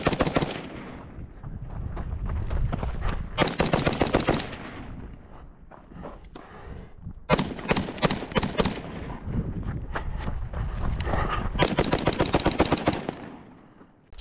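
A Cox Arms AR-15 rifle fires repeatedly outdoors, with rapid, loud cracking shots in dense strings and brief gaps between bursts, close to the microphone with some wind noise.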